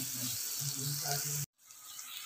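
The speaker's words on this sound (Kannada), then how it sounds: "ಶುಂಠಿ ಬೆಳ್ಳುಳ್ಳಿ ಪೇಸ್ಟ್, ಹಿಂಗು ಮೀಡಿಯಂ ಉರಿಲೇ ಫ್ರೈ ಮಾಡ್ಕೊಳ್ಳಿ." Ginger garlic paste and asafoetida frying over a medium flame give a steady close sizzle for about a second and a half, then cut out briefly before a quieter frying hiss continues.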